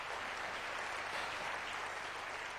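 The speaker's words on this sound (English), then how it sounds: "Give him a round of applause." A large audience at a motivational speaking event gives a steady, dense round of applause, even and continuous from a distance, with no voices standing out.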